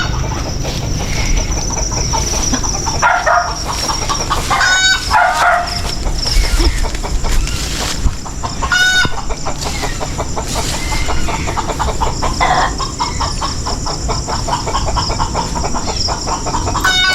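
Chickens cluck in loud, repeated bursts close by through a long stretch, over a busy, dense background, with occasional voices.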